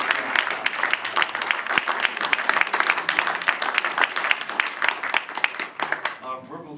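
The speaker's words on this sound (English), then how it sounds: "please give them a round of applause." Audience applause for a high school cadet jazz band at a jazz festival, dense sustained clapping from a crowd that tapers off near the end.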